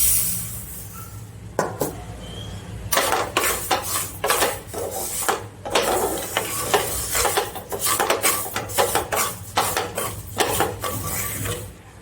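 Ragi (finger millet) dry-roasting in a pan while being stirred, with repeated scraping and rattling strokes of a utensil against the metal, coming in steady close bursts with no talking.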